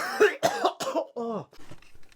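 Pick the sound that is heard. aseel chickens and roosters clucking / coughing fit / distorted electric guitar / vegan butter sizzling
coughing fit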